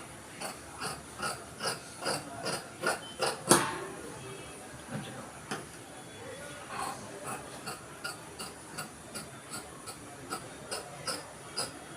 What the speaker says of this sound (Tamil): இப்போ கேன்வாஸ் வெட்ட இது சுடிதார் கேன்வாஸ்